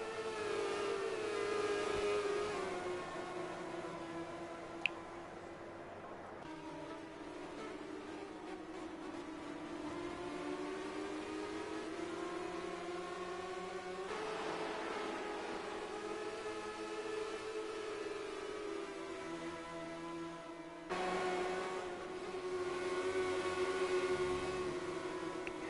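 Race cars lapping Cadwell Park in a Formula Guf 100 race, engines droning and shifting pitch as cars pass and accelerate, steady and fairly distant, continuous throughout without talk.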